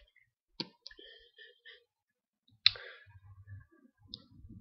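A computer mouse clicking on spreadsheet cells: a few sharp, close clicks spaced apart, with quiet faint rustling between them and no talk.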